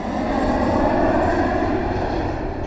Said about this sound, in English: Daddy Pig lands the airplane on the mountain.